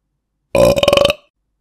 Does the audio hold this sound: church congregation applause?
no